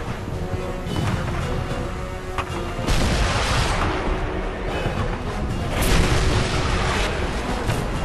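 Heavy booming blasts of cannon fire in the PC game Call of Juarez: Bound in Blood over a dense, noisy background, with louder bursts around the middle and later, continuous and rumbling.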